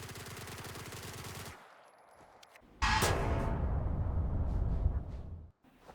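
Rapid automatic fire from a submachine gun in a shooter video game, a dense steady burst of shots lasting a few seconds, loud and close, with a second sustained burst after a short gap.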